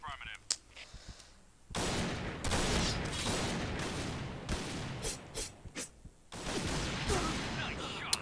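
Gunfire in the shooting video game Point Blank: several loud bursts of rapid shots and single cracks in a sniper match, with short pauses between volleys and a player speaking over the action.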